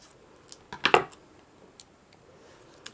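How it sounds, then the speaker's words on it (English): Scissors snipping the tip off a plastic glue bottle during a nuts-and-bolts race car craft: a short crunchy cut with a couple of close snips, followed by a few faint light taps in a quiet room. "take your scissors and just cut just a tiny bit of that off"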